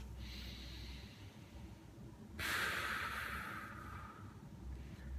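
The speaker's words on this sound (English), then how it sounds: "Breathe in through that belly. And purse your lips and control that air out." A deep belly breath drawn in, then a long controlled exhale through pursed lips, close and soft, the outbreath starting midway as a steady airy hiss that slowly tapers off.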